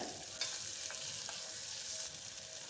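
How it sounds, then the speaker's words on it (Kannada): Tomato and onion frying in oil for an avarekalu kootu: a steady, fairly quiet sizzle runs throughout, broken by a few brief scraping stirs, with no voices. "ಟೊಮೊಟೊ ಮತ್ತು ಈರುಳ್ಳಿ ಸಾಫ್ಟ್ ಆಗೋ ತನಕ ಫ್ರೈ ಮಾಡ್ಕೊಳ್ಳೋಣ ಈ ಥರ ಎಣ್ಣೆಯಲ್ಲಿ ಫ್ರೈ ಮಾಡಿದ್ರೆ"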